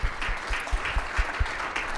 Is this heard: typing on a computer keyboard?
no